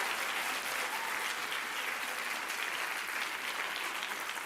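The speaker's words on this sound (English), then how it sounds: "That's worthy of a clap." A large audience at a county state-of-the-county address applauds, a dense, even wash of clapping that stays steady and fairly distant throughout.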